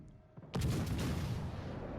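Battleship Iowa's main guns fire in a naval video game: after a quiet lead-in, a single loud, deep blast erupts and rolls on as a long, heavy rumble with no voices.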